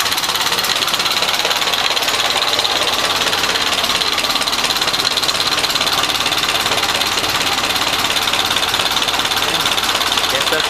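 A Model A Ford pickup engine running steadily, close and loud, with a rapid even mechanical clatter as it is throttled down by hand; no clear voice stands out.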